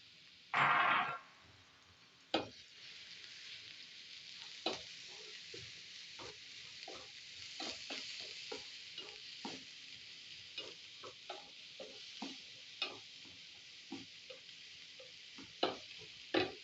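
An onion fries in a pan for Moroccan pasticcio with a quiet, steady sizzle, broken by scattered utensil clicks and one louder burst near the start.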